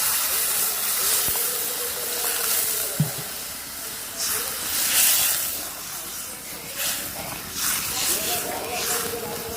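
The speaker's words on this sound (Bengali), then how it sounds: "এবার জল দিয়ে দিচ্ছি।" Water poured into a hot pan of simmering paneer and almond curry sets off a steady, loud hiss and sizzle that lasts throughout, with small bubbling pops near the pan.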